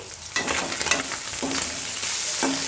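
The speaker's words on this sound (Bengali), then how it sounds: "দেখো মাছগুলো কত সুন্দর ভাজা হচ্ছে" Morola fish coated in salt and turmeric sizzle and spit steadily in oil in a wok, a close, constant frying hiss broken by a few sharper crackles and pops.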